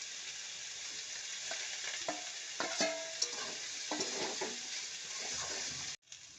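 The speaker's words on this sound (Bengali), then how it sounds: "শাক ভাজা হয়ে গেছে, এবার আগে থেকে ভেজে রাখা বেগুন দিয়ে দেব।" Fried brinjal is stirred into bathua greens frying in a pan: a constant close sizzle with a run of clicking spoon scrapes, then an abrupt cut near the end, no voices.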